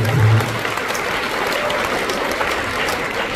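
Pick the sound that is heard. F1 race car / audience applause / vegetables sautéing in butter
audience applause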